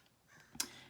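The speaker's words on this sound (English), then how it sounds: "Can you guys hear the birds outside?" Faint, distant single crow-like caw from birds outside in the early morning, heard briefly over a quiet indoor background with no talking.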